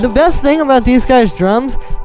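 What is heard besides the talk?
No everyday noises stand out.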